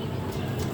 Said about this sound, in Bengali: এটা লাল চোখের কবুতর, অনেক ভালো ব্লাড লাইন